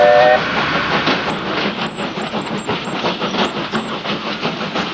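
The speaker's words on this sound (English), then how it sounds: "a locomotive from Texas now runs along the Brecon Mountain Railway" A Texas-built steam locomotive runs along the Brecon Mountain Railway in Wales with a rhythmic chuffing and clatter, a hiss of steam riding over the top, steady and fairly close.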